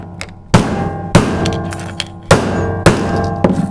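Four heavy hammer blows smash a stock Traxxas battery charger lying on a table, each a sharp cracking thunk with plastic rattle, spaced roughly evenly apart and loud, with no talking.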